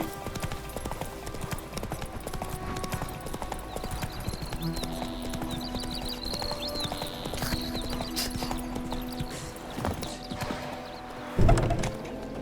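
Hooves of the horse Roach clip-clop steadily in The Witcher 3, a continuous galloping rhythm over game ambience, with a brief neigh-like burst near the end.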